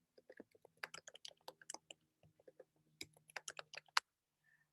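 Someone types a password on a computer keyboard, a quiet, close run of quick, uneven key clicks in short bursts. The strokes bunch into flurries with brief pauses between them and end on a sharper final tap.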